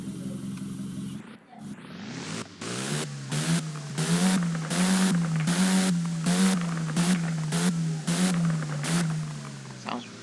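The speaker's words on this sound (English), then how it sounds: "Let's just rev it." A Nissan car in the Roblox game Driving Empire revs repeatedly, its engine note climbing and dropping in a steady series of loud, rhythmic bursts that keep going after a brief quiet start.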